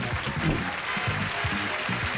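Game show studio audience applauding on Blockbusters, a loud, continuous burst of clapping with a host's voice talking faintly through it.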